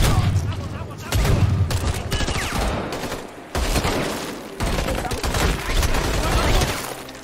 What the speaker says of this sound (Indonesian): Lalu mereka pun saling beradu tembak sampai pasukan Leon berhasil menghabisi sebagian anak buah Agnes.